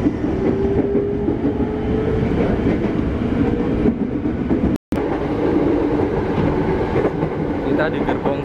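A KRL JR 205 electric commuter train departs and runs, with a steady loud rumble and rail clatter heard from inside a carriage, briefly cut by a short gap and then continuing.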